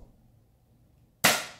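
A toy gun fired at Angry Birds figures, a single sharp snapping pop after a stretch of near silence, close and fairly loud, with a quick decaying tail.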